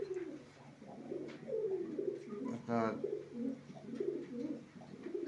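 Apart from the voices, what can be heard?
male pigeon cooing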